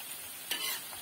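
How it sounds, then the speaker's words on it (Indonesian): Ground spice paste for Javanese fried rice frying in a pan, with a soft, steady sizzle and a brief stirring scrape midway, close and with no talk. "bumbu yang kita giling tadi atau kita di blender tadi, kita goreng ya."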